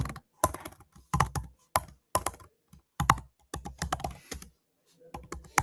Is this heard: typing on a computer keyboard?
yes